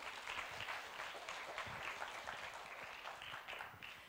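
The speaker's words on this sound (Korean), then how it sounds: "큰 박수로 맞이하도록 하겠습니다" An audience at a Korean university lecture event claps steadily to welcome a speaker, a dense, even burst of applause with no talking over it.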